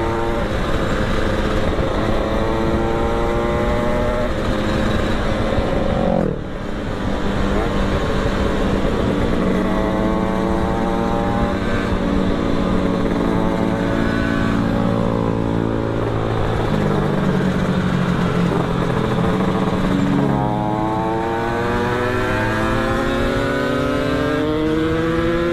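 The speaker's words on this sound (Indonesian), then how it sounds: "Suaranya bulat banget tuh ini motor." Continuous loud motorcycle engine droning nearby, pitch rising and falling as it shifts through gears and accelerates, with no talking.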